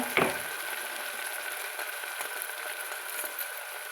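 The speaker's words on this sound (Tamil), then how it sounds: "தக்காளி சேர்த்து நல்லா வதக்கலாங்க" Tomatoes and onions sautéed in a pot for green gram rice: a steady, soft frying sizzle with a brief clink of stirring at the start, continuous and fairly quiet.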